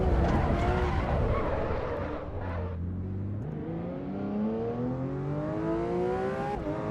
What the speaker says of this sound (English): we're driving the Porsche 992 GT3 RS